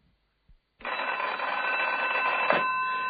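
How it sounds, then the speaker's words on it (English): A telephone rings in a radio drama, the bell starting abruptly after a couple of soft knocks and sounding as one continuous, bright, fairly loud ring that stops sharply near the end. "Until the telephone rang."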